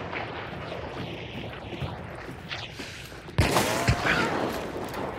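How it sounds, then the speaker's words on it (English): A chaos bomb detonates in a video game with a sudden loud, broadband burst that cuts through rumbling background battle noise and is followed by a sustained hissing roar. "That is the chaos bomb."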